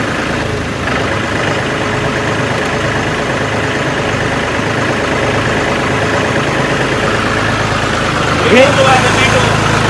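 John Deere and New Holland tractor engines run with a steady, loud low rumble that rises slightly near the end, heard close up alongside people talking.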